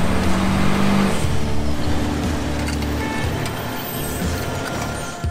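A four-wheel-drive Toyota Land Cruiser engine rumbles steadily and loudly on a dirt track, a close, continuous drone that eases slightly toward the end.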